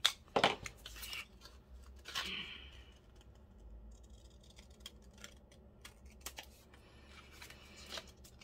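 Paper being cut with scissors while making a junk journal: a few sharp snips and rustles near the start, then quieter shuffling and handling of paper at close range.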